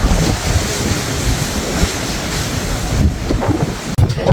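Strong wind roars across the deck of a cruise ship in rough seas, with steady surf and wave wash underneath and occasional buffeting gusts against the microphone; nobody speaks.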